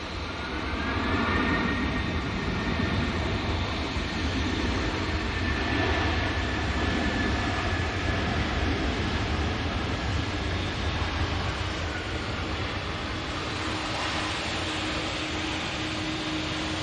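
An Aer Lingus airliner arriving at an airport gives a steady, broad roar that holds at an even level the whole time. It sounds moderately distant, with no voices over it.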